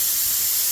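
Compressed air hisses steadily from a paint spray gun set around 20 PSI while spraying Persian Purple over black, a brief loud and even jet of airy noise with no voices.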